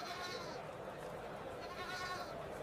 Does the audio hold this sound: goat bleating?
yes